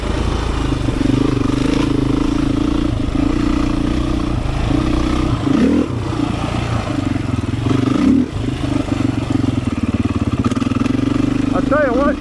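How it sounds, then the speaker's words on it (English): A Beta 500 dirt bike with a 14-tooth sprocket runs in second gear on the Holton Loop trail. The engine drones steadily and loud, with small throttle swells and some clatter, and a rider talks over it. "this bike with the 14-tooth sprocket, second gear is perfect in here"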